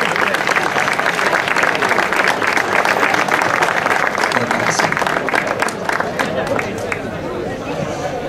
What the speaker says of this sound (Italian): Un applauso a tutti e tre.